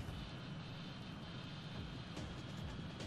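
Steady broadband roar of a jet aircraft engine in the flight combat game Ace Combat 2, a continuous drone held at constant level for about three seconds with no talk over it.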